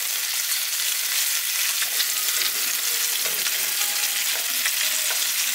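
Diced bacon cubes frying over medium heat in a pan, a steady close crackling sizzle that runs unbroken throughout with no voices.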